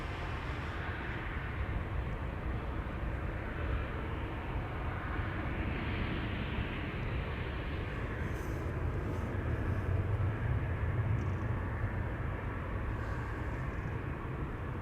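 Arriving airliner, probably a Saudia jet, at Amsterdam Schiphol, a faint distant engine roar rumbling steadily in the background with no speech.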